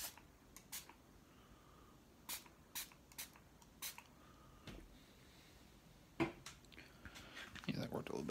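A spray bottle mists water onto a watercolor painting of a Rambo III scene in a series of short, sharp bursts spaced across the clip, close and fairly quiet over a soft background.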